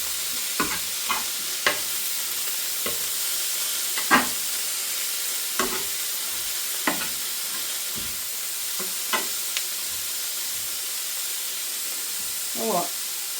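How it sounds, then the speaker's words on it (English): Vegetables for chicken chow mein sizzle in a pan on high heat, a steady frying hiss broken by a dozen sharp stirring scrapes and clacks of a utensil against the pan. "it wants us to saute this for a few minutes before we put the chicken and the sauce in"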